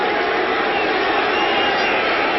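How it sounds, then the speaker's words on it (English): A football stadium crowd boos the home side at a 1994 Green Bay Packers at Philadelphia Eagles game, a steady, dense roar of disapproval that holds at one loud level throughout with no breaks. "You can hear the boos going right now."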